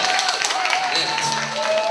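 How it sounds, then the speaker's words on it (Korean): An audience at a year-end party of a Korean janggu drum group breaks into broad, steady applause, a crowd of clapping hands with some voices and music mixed in around it. "박수 한번 주세요."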